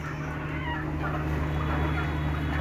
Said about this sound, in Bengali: এই যেমন এখানে মোরগটা দেখতেছেন